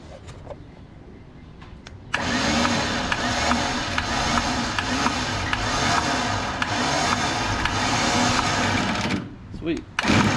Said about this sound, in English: And we actually do need to winch in.